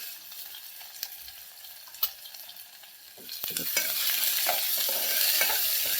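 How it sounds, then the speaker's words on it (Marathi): Chopped onion hitting hot oil with garlic and curry leaves, a soft sizzle swelling into a louder, steady crackle, with a few sharp spoon clinks and stirring scrapes along the way. "कांदा भाजून घ्यायचा आहे आपल्याला."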